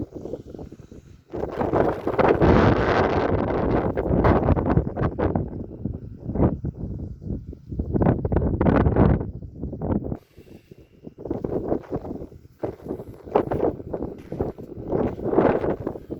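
Strong gusts of wind buffet the microphone outdoors in uneven, roaring waves, rising and falling with brief quieter gaps.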